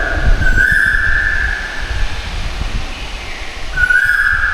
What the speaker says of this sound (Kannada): ನೋಡಿ ಅಲ್ಲಿ ಆ ಪಕ್ಷಿ ಕೂಗ್ತಾ ಇದೆ ನೋಡಿ